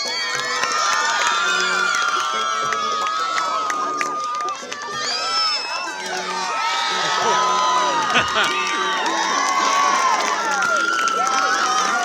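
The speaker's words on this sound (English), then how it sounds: "Let's start cheering" A large, loud crowd of children and adults cheers, whoops and shouts continuously at a taekwondo match held at a zoo, with excited voices rising and falling together.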